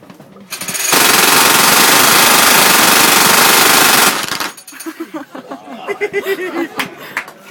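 Gatling gun made in 1886 firing a sustained, very loud rapid burst of shots for about three seconds, then stopping as people nearby laugh and react.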